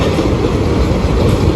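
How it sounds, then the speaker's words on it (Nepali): A double train rumbles past at close range, a loud continuous low roar of rolling wagons with steady wheel noise throughout, no talking. "यता ट्रेन, ओए डबल ट्रेन आयो त यार"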